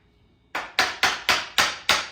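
Six sharp hammer blows land at an even pace, driving powder-coated brackets for a Gator EFX tonneau cover into place on a 2024 Ford Ranger Raptor; the hits are close and loud after a quiet start.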